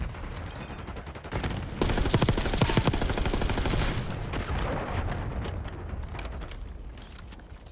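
Rapid automatic gunfire from a multiplayer match in Call of Duty: Black Ops 6, loud sustained bursts with brief pauses, near and dense, with no talking.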